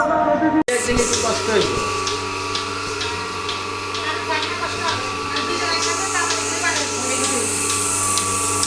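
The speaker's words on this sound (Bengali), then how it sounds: "এটা হলো তুরস্কের দুধ দাওয়ানো মেশিন মিলাস্তি মিল্কিং মেশিন" A Turkish Milasti milking machine milking a cow, running as a steady mechanical hum with a regular ticking pulse throughout, close and fairly loud, with a voice talking over it.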